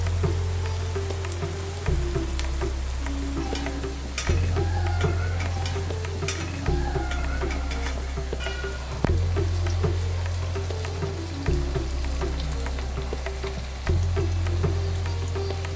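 Rajapalayam kuzhi paniyaram frying in oil in a paniyaram pan, a continuous crackling sizzle like light rain, with a low hum that cycles on and off every few seconds, close and without talk.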